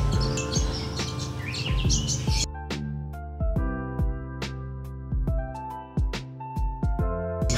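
A sooty-headed bulbul gives bright, bubbly calls and short whistled notes, close and clear, at first over a dense wash of other birdsong.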